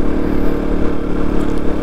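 Heavily loaded KTM RC 200 motorcycle on the snowy, off-road climb to Changla Pass in Ladakh, struggling for power: a loud, continuous engine drone mixed with rushing wind and rumble, close and unbroken, with no voices.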